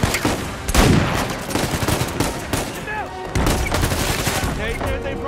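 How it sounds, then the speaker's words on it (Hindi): Rapid machine gun fire in the action video game Uncharted 4, loud sustained bursts of automatic shots with booming impacts layered over game sound, a voice talking over parts of it. "ओ भाई इसके पास है मशीन गन।"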